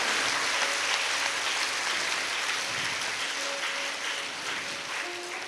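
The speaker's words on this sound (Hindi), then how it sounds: "हमारी मातृशक्ति के सम्मान में हम विशेष तालियों की गड़गड़ाहट कर रहे हैं" An audience at a religious satsang gathering claps together in sustained, even applause, a dense, steady patter that carries on for several seconds without voices.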